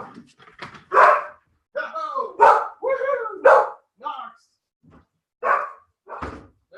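A pet dog barks indoors in several loud, close barks in quick bursts, some overlapping, with someone talking between them.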